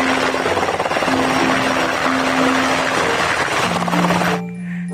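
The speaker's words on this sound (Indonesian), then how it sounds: "Ini helikopter tempur" A toy combat helicopter gives off a loud, continuous whirring sound effect with a buzzy, electronic hum that runs nearly five seconds, then drops off abruptly at the end.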